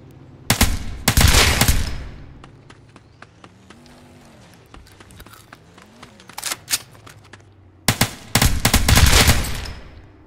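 Full-auto fire from a Glock fitted with a switch in a South London roleplay video game: two loud, dense bursts of rapid shots open and close the stretch, with sparse scattered pops and a low engine hum between them.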